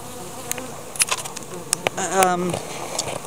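Honeybees buzz steadily around a hive during an inspection, with scattered close clicks and one bee droning past near the middle.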